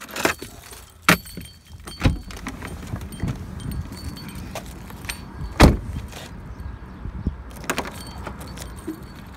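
Keys jangling in a set of sharp metallic clinks and rattles close by, scattered irregularly over several seconds among bumps and handling noises.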